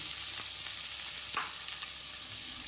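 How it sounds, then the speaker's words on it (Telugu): Cashews and finely chopped onions fry in hot oil, making a dense, even sizzling hiss that stays steady throughout with a few faint crackles and pops. "ఆయిల్ హీట్ ఎక్కింది కదండి ఇందులో కొద్దిగా జీడిపప్పు వేయించుకుందాం"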